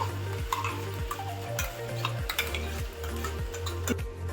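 Paste for soya pulao stirred into a hot frying pan, with steady rhythmic scraping of a spoon about twice a second over a soft sizzle of oil, close and moderately quiet.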